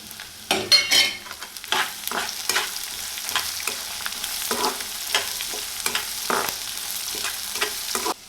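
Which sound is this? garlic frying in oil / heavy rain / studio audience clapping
garlic frying in oil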